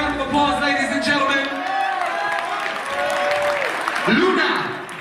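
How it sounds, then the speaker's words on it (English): An audience at a fashion runway show claps for three models holding a pose, a broad wash of applause and some cheering under a loud announcer's voice and ringing, tonal sound that carries through the whole stretch. "Give all three a round of applause, ladies and gentlemen."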